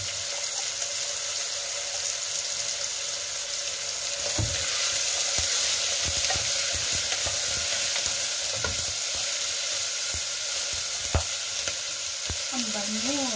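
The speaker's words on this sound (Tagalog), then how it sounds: "ilagay na natin yung daing para magprito ulit siya at may lasa" Dried fish (daing) frying in a pan, with a continuous close sizzle and crackle punctuated by irregular clinks and scrapes of stirring, with no talking.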